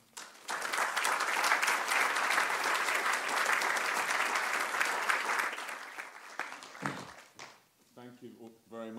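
An audience at a global citizenship forum at Tate Modern breaks into loud, sustained applause that fades after several seconds, followed by a person beginning to speak.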